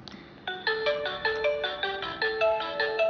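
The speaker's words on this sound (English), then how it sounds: "The ring notification comes." Ringtone-style notification chime from a smart doorbell camera app on a mobile phone, a bright repeating melodic tone pattern sounding alone and clearly, several rising note phrases over about three seconds.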